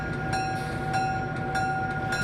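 Switch crews assembling a train at the Heber Rail Yard fill the air with a steady mechanical drone and a high tonal whine, punctuated by sharp metallic clanks and bangs from couplings, no voices.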